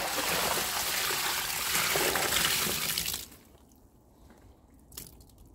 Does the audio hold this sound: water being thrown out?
yes